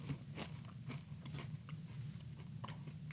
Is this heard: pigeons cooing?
no